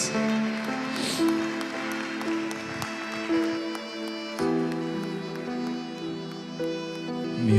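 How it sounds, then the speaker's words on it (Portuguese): A church congregation applauds during a service, with scattered claps carrying under sustained music that plays throughout. "Uma salva de palmas a Cristo Jesus."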